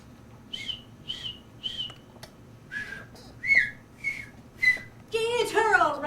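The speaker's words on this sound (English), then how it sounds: "It's a low whistle, repeated 2 times." A person whistles in short repeated tones, a few spaced notes, then a quicker warbling whistle at the end; no talking.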